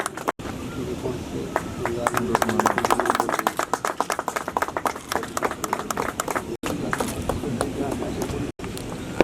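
Applause at a police passing out parade award ceremony, with dense, loud clapping from a crowd running steadily for several seconds, briefly cut by dropouts, and speech heard at points.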